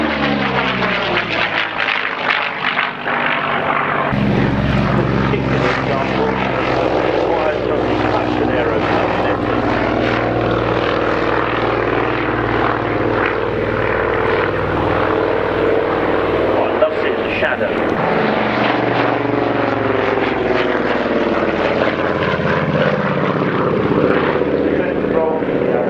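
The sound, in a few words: propeller aircraft flying at Shuttleworth air pageant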